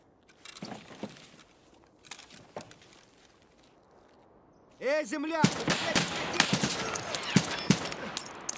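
PP gunfire in Escape from Tarkov: scattered sharp shots early on, then a dense burst of rapid automatic fire that continues loud and close to the end.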